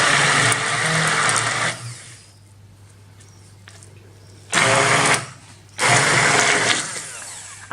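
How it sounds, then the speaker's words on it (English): A stick blender purees beans for a spinach bean dip in three loud bursts, each a steady close whir, separated by quieter pauses. "let's blend it all together and see what it looks like at the end"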